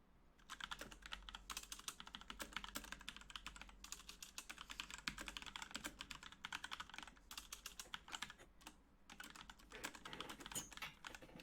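Quick, uneven bursts of typing rattle on a computer keyboard as notes are written, close and busy for several seconds, pausing now and then before resuming, with no talking.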